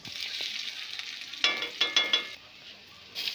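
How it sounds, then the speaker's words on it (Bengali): Chopped onions hit hot oil with whole spices such as bay leaf, and a crisp sizzle flares up in a few quick bursts before it settles to a quieter hiss. "কেটে রাখা পেঁয়াজের টুকরোগুলো তেলের ওপর দিয়ে দিলাম"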